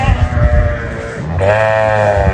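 A lamb bleats loudly and close by, a drawn-out wavering cry followed by a second, stronger bleat.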